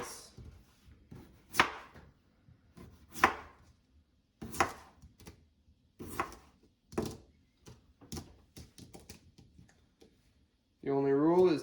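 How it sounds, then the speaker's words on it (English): A knife dices potato slices on a cutting board during bulk meal prep: a run of sharp, irregular chopping thunks, close and crisp, ending with a brief tonal hum. "Then I'll go back and I'll dice them up."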